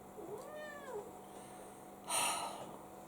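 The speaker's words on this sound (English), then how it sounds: "I think this cat wants to be part of this video." A house cat gives one drawn-out meow with a rising and falling pitch, close by in a quiet kitchen, followed a moment later by a brief burst of broadband noise.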